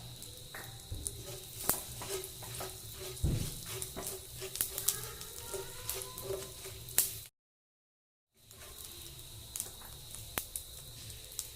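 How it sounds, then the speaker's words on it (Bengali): Panch phoron, two dried chillies and two bay leaves sizzling in hot mustard oil, a faint steady crackle with scattered pops and spits, briefly cutting out before resuming. "এবার ফোড়নে দিয়ে দিচ্ছি আধা চামচ 5 ফোড়ন, 2টো শুকনো লঙ্কা, 2টো তেজপাতা।"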